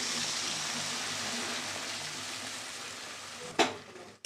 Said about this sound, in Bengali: আবারও একটু নাড়াচাড়া করে দিলাম